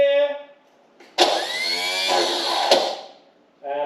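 A Peugeot P4 diesel engine cranks and tries to fire after preheating, a steady loud churning for about two seconds that cuts off abruptly, with voices before and after.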